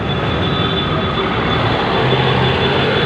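A Kolkata tram rolls along its tracks in the city, a loud, steady rumble and rattle of wheels on rail that fills the whole stretch without any voices.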